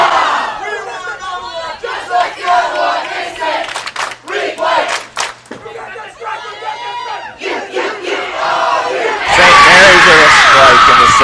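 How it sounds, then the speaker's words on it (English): Fans at a girls' Division 2 state high school bowling tournament cheer and shout as a loud, close crowd, with excited yells building into a roaring burst of cheering near the end. "Listen to that crowd."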